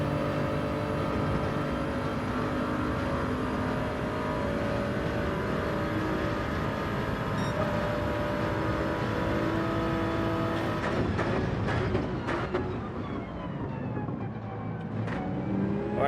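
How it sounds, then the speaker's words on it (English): A Jaguar race car in Gran Turismo 7 accelerates hard, its engine note a loud, steady drone that climbs in pitch, with a few sharp gear-change blips near the end and no talk over it. "Look at the acceleration on the Jag. Look at it go."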